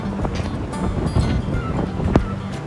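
Wind gusting at Kavlesad waterfall in Amboli, a steady rushing roar buffeting the microphone, loud and close throughout.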